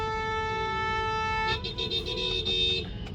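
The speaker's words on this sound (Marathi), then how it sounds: "आणि मागून हा हॉर्न वाजवत बसला" A car horn honks steadily from behind, a long sustained blare followed by a few shorter broken toots, fairly loud over low traffic rumble.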